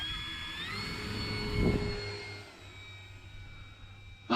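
The Draco bush plane's engine runs at full power, a steady droning roar with high whining tones that rise in pitch and then hold, heard from some distance outdoors and ending with a brief close bump.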